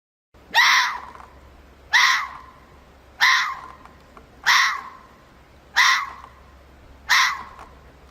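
A fox calling: six harsh, rasping screams repeated at a steady interval of a little over a second, fairly close and loud over a faint low hum.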